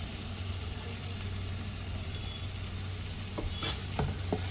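A spoon stirs a cooked spice masala in a hot pan after sugar and garam masala powder are added for a duck egg and potato curry, a soft steady sizzle with a few light scraping clinks near the end.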